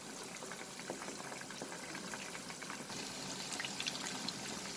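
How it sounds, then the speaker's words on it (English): Chicken pieces for chicken lajawab fry over a high flame, a steady close hiss of sizzling oil that grows slightly louder toward the end. "I'm going to increase the flame and fry this for another 2 minutes."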